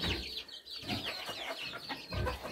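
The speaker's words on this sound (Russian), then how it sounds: "И забежала курица сюда." A chicken clucks and murmurs nearby in short, irregular bursts, soft scratchy calls against a faint background.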